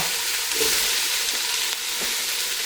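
Veggie sausage and butternut squash cooking in a pan give a steady, even sizzle and hiss that stays close and constant, with no talking.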